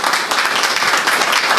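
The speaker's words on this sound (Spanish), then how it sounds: "El aplauso que se escucha." Audience applause fills a hall at a municipal historiography congress in La Sierrita, Mara municipality: a dense, steady wash of many hands clapping, loud and continuous throughout with no voices above it.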